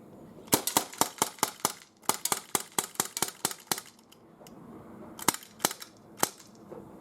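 Springfield Armory XDE BB pistol firing 18 rounds outdoors, a rapid run of sharp snapping shots in close succession, then a brief pause and a few slower, more widely spaced final shots.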